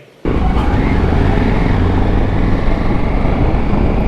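Motorcycles ride along a road near Hosakote, with a steady, loud engine and wind roar that starts abruptly after a brief quiet moment and continues without a break.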